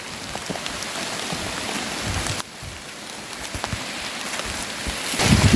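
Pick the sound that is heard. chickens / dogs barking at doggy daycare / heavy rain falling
heavy rain falling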